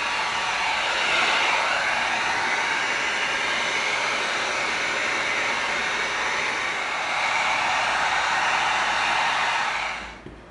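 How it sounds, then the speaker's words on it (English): Heat gun blowing hot air while heat sealing an EVA foam Hylian shield, a steady loud broadband whoosh that runs evenly for about ten seconds before cutting off, with no talking. "Now we're going to lightly heat seal this area in here."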